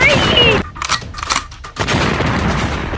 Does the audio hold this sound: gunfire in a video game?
yes